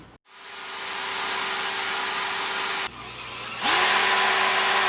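A power drill runs during a fridge repair, spinning up to a steady high whine, briefly stopping, then starting again at a louder, higher pitch, close and without talk.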